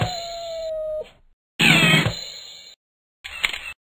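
A cat yowls and howls in three separate bursts. The first is a long, steady wail, then a louder, strained howl follows a pause, and a short final cry ends it, close and loud with no talk.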